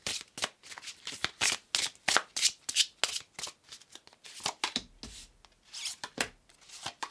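Tarot cards being shuffled by hand, a quick run of crisp riffling and sliding bursts repeating close up with brief gaps, alone without talk.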